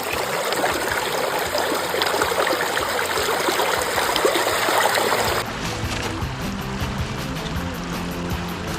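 Water sloshes and trickles continuously while sluice tailings are panned for gold at a homemade fluid bed sluice, a steady close wash of flowing water with no clear talk.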